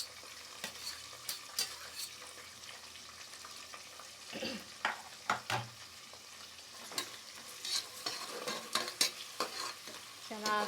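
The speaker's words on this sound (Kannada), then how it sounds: "ಚೆನ್ನಾಗಿ ಫ್ರೈ ಮಾಡ್ಕೊತೀನಿ ಫಸ್ಟಿಗೆ" Ingredients for pulao frying in a pan while being stirred, a low background sizzle broken by frequent sharp spoon scrapes and knocks in an irregular rhythm, close and fairly quiet.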